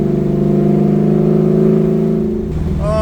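A 1969 Camaro with a swapped LS3 engine and six-speed drones loudly and close by under load, its note holding steady before easing off and climbing again near the end.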